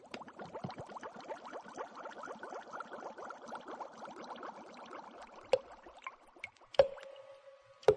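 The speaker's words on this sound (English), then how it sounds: "The sound you hear is dripping blood." A dripping blood sound effect: a rapid run of wet, squishy drips close by, followed by a few louder sharp drops spaced apart near the end.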